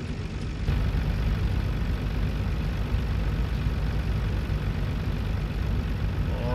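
A tractor engine in Farming Simulator 19 drones steadily at low pitch, a continuous heavy rumble that holds level throughout with no talk over it.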